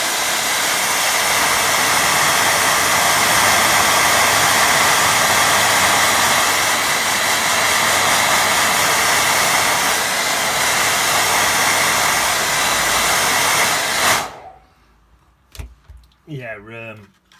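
A hair dryer blowing on a watercolour painting of a boat on a beach: a loud, steady close whoosh running for about fourteen seconds, then switching off, after which a voice begins talking.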